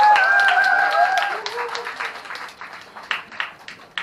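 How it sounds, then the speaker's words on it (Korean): Audience applause at a band's solo concert, a dense burst of clapping that gradually thins into scattered claps, with a held keyboard tone and faint voices underneath. "이제 박수 주시면"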